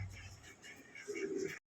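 A dove coos softly in a low, mellow tone, with faint background noise around it.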